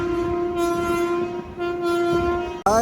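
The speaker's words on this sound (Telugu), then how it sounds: "అటు సైడ్ నుంచి కూడా ఒక ట్రైన్ అయితే వస్తుంది" A train on the line toward Katpadi Junction in Tamil Nadu, heard as a loud, sustained horn blast with a steady tone that drops out briefly, resumes, then shifts pitch near the end over low rumbling.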